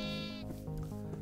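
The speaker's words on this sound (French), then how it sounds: "j'ai réussi à choper 2-3 moutons" Sheep bleat in Minecraft, one long wavering cry followed by a few shorter, fainter bleats close by, with no talk.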